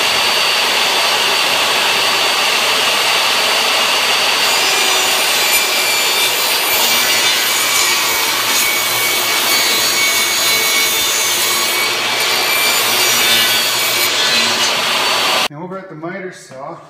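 A circular saw cuts through a wood board for a cubby bench, making a steady, loud, continuous whine for about fifteen seconds before it stops and winds down.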